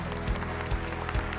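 At a Korean song festival awards ceremony, an audience applauds an award winner, scattered claps running under a rhythmic musical backing with regular low bass thumps.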